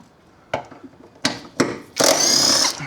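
A power tool spins out bolts from a Holden V8 differential, with short sharp bursts followed by a longer sustained whir, close and fairly loud in a workshop.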